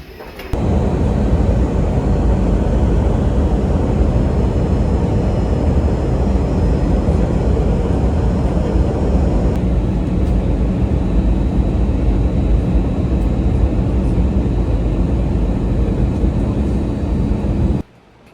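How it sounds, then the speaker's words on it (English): Steady, loud roar of an airplane cabin during boarding, a continuous broadband engine and ventilation drone that holds evenly throughout and cuts off abruptly near the end, with no talking. "but finally boarding the plane."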